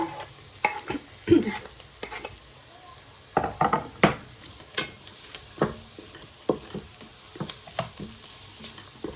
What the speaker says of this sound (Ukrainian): А поки моя там морква з цибулькою смажиться